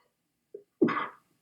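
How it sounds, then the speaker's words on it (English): A single sneeze by a person, close and clear: a short intake burst followed by a louder explosive sneeze lasting under half a second, then silence. "they say you sneeze on the truth, and I just sneezed"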